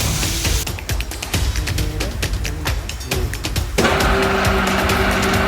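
A factory cutting machine with a gear-driven trolley and cutter runs loudly nearby, giving dense clattering bursts and mechanical rattles before settling into a steady, strong whirring hum.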